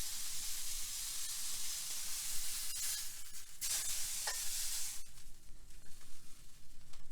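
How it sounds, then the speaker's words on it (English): A beef tenderloin roast sears in a hot pan, giving a faint, steady sizzle and hiss with a few brief clinks and scrapes of handling along the way. "the roast has been searing for about 4 minutes"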